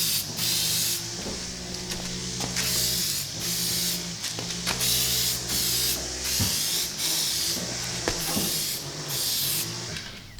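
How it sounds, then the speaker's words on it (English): A PlastiDip aerosol can sprays coating onto a scratched car wheel in repeated bursts of broadband hiss, each a second or two long with short gaps, close and steady, over a low background hum. "Shake the can up, and you can start spraying again."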